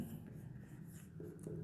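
Pen or marker writing on paper or a board during a maths lesson, a short run of soft scratchy strokes with faint room tone and no speech.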